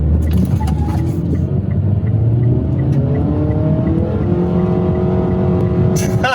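A 2020 Mitsubishi Outlander with the 166-horsepower four-cylinder engine accelerates hard from a launch, its loud engine note climbing steadily in pitch through the run, close up inside the cabin.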